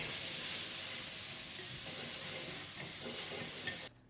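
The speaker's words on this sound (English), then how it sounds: "we're going to put the brown onion in the wok" Brown onion frying in a hot wok, a loud steady sizzle and hiss with faint stirring scrapes, cutting off abruptly near the end.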